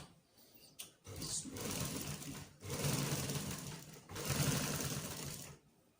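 Electric sewing machine stitching down a folded button strip on a jumpsuit, running in three steady bursts of a few seconds each with short pauses between, close and fairly quiet.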